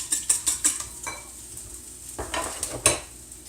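A spatula scrapes and stirs matzo brei in a hot pan, a series of quick clattering strokes over a faint sizzle, close and fairly loud with short pauses between bursts.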